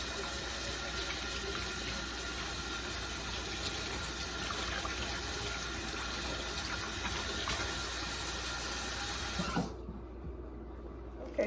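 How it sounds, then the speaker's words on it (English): Tap water gushing steadily into a cooking pot for boiling noodles in a home kitchen, a continuous loud rush that cuts off abruptly near the end. "So first we're gonna put some water in this pot."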